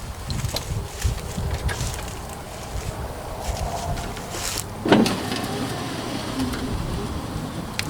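An electric window motor hums as it slowly rolls up a window on a 1985 Chevy K10 pickup, a faint, steady whir that sounds strained, with a short louder clunk partway through.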